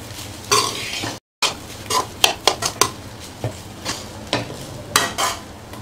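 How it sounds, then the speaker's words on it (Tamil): Egg rice stirred slowly in a pan over a low flame, a spoon scraping and clinking against the metal in irregular bursts over a soft background sizzle, with one brief silent gap early on. "ஸ்டவ் குறைச்சி வச்சுட்டு மெதுவாக அப்படியே கலக்கி கொடுங்க"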